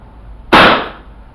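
A Crosman 1077 Tactical air pistol fires a single pellet: one sharp, close crack that cuts off after a brief hiss-like tail, over quiet background.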